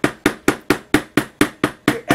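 A leather-stamping tool is tapped lightly with a hammer on leather, nine evenly spaced sharp knocks about a quarter second apart, close and clear with no talk.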